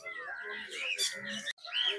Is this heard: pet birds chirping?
yes